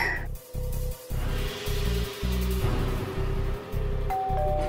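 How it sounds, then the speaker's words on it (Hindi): A doorbell chimes near the end over a pulsing, rhythmic background beat, with no clear speech. "घंटी माँ जी। बजी है, देख तो कौन है।"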